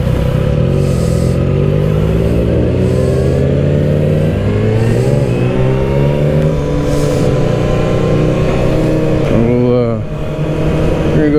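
Engine of a 2024 Kawasaki Ninja ZX-6R motorcycle running loud and close throughout, pitch rising and falling as it revs and shifts, with a brief dip near the end and a voice talking over it.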